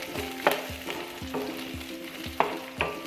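Nuts stir-roasting in a pan for spicy avil pori, with rhythmic scraping strokes of a spatula roughly every half second over a soft sizzle, close and alone.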